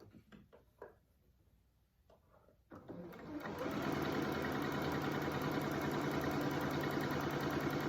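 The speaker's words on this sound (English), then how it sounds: "I'm just going to raise my foot and continue sewing this long piece together" A sewing machine stitches a fabric face mask with elastic, starting after a few quiet handling knocks and then running as a loud, steady mechanical whir through to the end.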